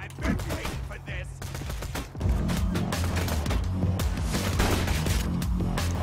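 Shotgun blasts in Borderlands 2, heavy booming reports in a dense, loud stretch of combat noise that grows fuller after the first couple of seconds, with no one talking.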